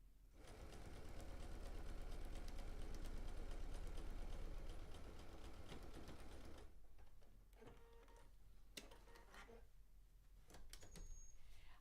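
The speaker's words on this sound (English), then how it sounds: "just slowly sew. Let the machine, the feed dogs and everything grab those corners" A sewing machine runs slowly while stitching fabric corners, a close, dense mechanical whir for several seconds that then drops to quieter, intermittent stitching with small clicks.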